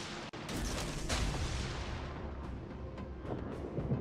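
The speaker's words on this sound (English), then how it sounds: "And here comes the salvo." Warship guns fire a salvo in the naval battle game World of Warships: a sharp crack followed by a heavy, rumbling boom that rolls on and slowly decays, loud and alone.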